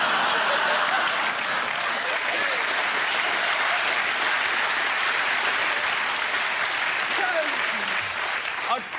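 A studio audience at a comedy panel show applauds, with dense, continuous clapping from a large crowd, loud and steady throughout.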